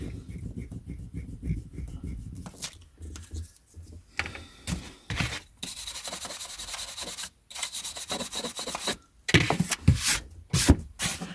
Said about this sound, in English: we'll just give it this rub for a minute.